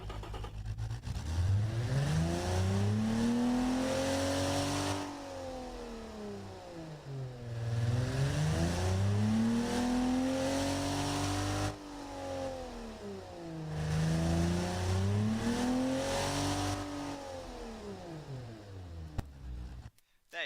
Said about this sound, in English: You accelerate in this car and you're let to know it's doing something.